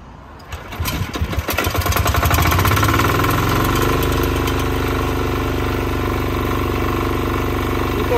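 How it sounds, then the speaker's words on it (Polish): A diesel tractor engine is cranked by hand, sputters with rapid uneven knocks, then catches and settles into a steady, loud idle close by. "Ręczne uruchamianie diesla."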